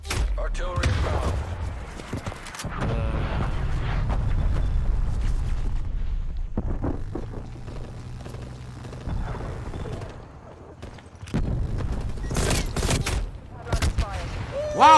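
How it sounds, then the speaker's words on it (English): A video game artillery strike brings repeated heavy blasts and rumbling explosions, with bursts of gunfire between them and a final loud hit near the end, while voices talk in between. "Artillery inbound."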